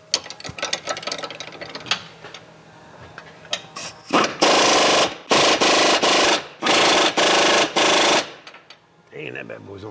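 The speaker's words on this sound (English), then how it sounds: "this one is a little tight, so I got 2 wrenches, stuck them together, and just kind of get it started a little bit anyway." Two wrenches joined together working a tight nut on a Kia Sorento front end, giving repeated loud rasping ratchet-like bursts in four or five strokes, preceded by scattered clicks and clanks.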